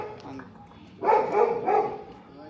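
A hungry dog barks several times in quick succession at mid distance, loud short yaps over a faint background murmur, in a rural area of Sonora after a shooting.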